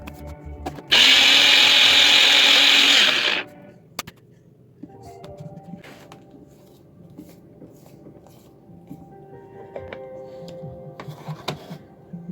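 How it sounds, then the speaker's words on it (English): A NutriBullet blender whirs loudly for about two and a half seconds as it mixes fluorescent yellow fishing bait liquid, then stops, leaving quiet clicks and handling sounds. "So again, back on the NutriBullet, give it another little mix."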